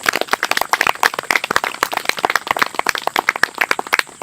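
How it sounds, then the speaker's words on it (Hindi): Loud applause from parents honoring their children at a coaching institute's top-rankers event, dense rapid clapping from a large crowd sustained steadily throughout. "अपने प्यारे प्यारे बच्चों के लिए जोरदार तालियां बजा दें"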